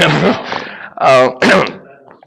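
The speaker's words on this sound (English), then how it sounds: "Excuse me if I cough a little bit." A person clears their throat and coughs a few times in quick, harsh bursts, close to the microphone.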